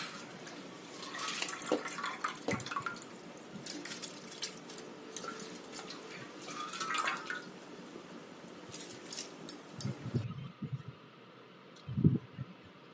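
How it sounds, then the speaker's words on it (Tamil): Washed basmati rice is tipped into a pot of boiling water for chicken biryani, giving close wet splashes, drips and grainy rustling in uneven bursts, then a quieter stretch with a couple of soft knocks. "தண்ணி நல்லா கொதித்து வந்ததுக்கப்புறம் பாஸ்மதி அரிசியை கழுவிட்டு நம்ம இதில் போட்டுக்கலாம்"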